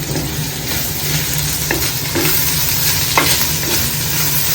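Bitter gourd sautéed with salt sizzles steadily in a hot pan, close and loud, with a few soft scrapes of a stirring spoon and no talking.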